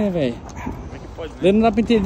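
A female stray dog that was abandoned on the street gives short yips and whimpering cries at the start and again near the end, heard under someone talking close by.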